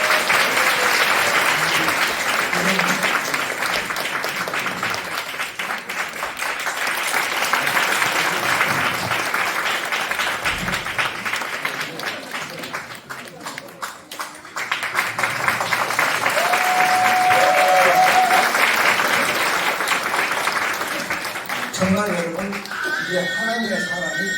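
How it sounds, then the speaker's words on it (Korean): A church congregation gives sustained applause that rolls on steadily for over twenty seconds, dipping briefly midway before swelling again, with a voice surfacing near the end. "박수 한번 쳐주세요"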